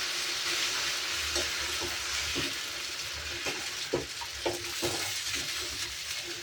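Flour batter for mor kali is stirred in a hot pan, a steady sizzle under repeated scraping and clinking strokes of the spoon against the pan, with no speech.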